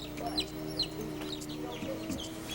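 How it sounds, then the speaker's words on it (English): Small Japanese silkie chicks peep in quick, high chirps scattered through a steady barnyard background, with some lower clucking from nearby fowl. "if you're very quiet, you can hear these little guys chirping"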